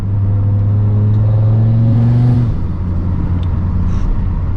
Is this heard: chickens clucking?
no